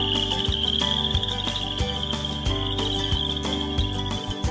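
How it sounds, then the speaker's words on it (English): Chorus frogs calling from a pond, a dense, continuous high-pitched trilling chorus with steady pulsing that fills the whole stretch at moderate loudness, with no voices. "Let's take a listen to what a chorus frog might sound like"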